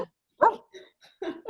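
Several short, separated barks from a dog named Lucky, moderately close, with silent gaps between them in a quiet room.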